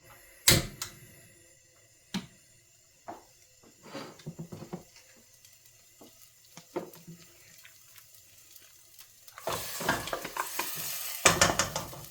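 Meat goes into a pan for a Filipino home-cooked ulam. Scattered clinks and stirring taps come first, then a louder, denser sizzle builds over the last few seconds, with no talking.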